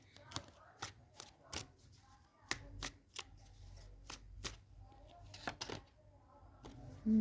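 Tarot cards are shuffled and drawn by hand in a quiet room, giving a series of sharp, separate card snaps and flicks that fall at irregular intervals over soft handling rustle.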